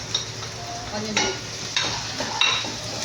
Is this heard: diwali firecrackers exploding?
no